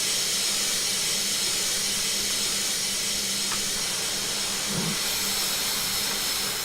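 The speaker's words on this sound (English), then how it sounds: "Let's turn those cylinders off because they don't do anything apart from make noise." Open cylinder cocks on a Standard 4MT tank steam locomotive give a loud, continuous broad hiss, heard close from the cab with a low rumble beneath and a brief knock partway through.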